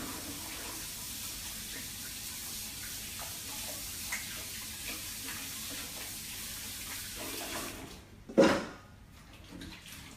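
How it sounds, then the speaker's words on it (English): Hands are washed under a running kitchen tap, a soft steady hiss of flowing water that ends with a short louder splash near the close. "Just gonna wash my hands and then we'll go and decorate."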